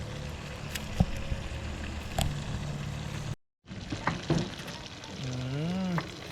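Chicken frying in a pan outdoors in a backyard, a steady close sizzle broken by a brief dropout, with a few clanks and a warbling tone near the end.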